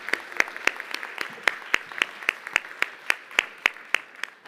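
Applause from an award ceremony audience at a startup showcase comes through as a sparse, rhythmic run of distinct claps, evenly spaced and fairly close, lasting a few seconds.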